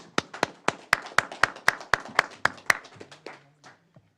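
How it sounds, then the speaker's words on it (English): Brief applause at a city council meeting: a short burst of about a dozen sharp, evenly spaced hand claps that thin out and fade within a few seconds, close to the microphone. "Now I want to give you an applause"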